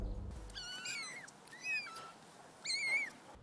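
Three high-pitched kitten meows, each one short and wavering, spaced apart in an otherwise quiet room.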